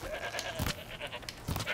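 Goats bleat in the Horizon Zero Dawn video game, two short nasal calls separated by about a second against quiet game ambience.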